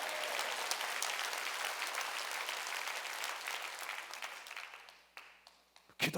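A church congregation at a Wednesday worship service applauds in a loud, sustained wash of clapping that fades out near the end, with a few last claps.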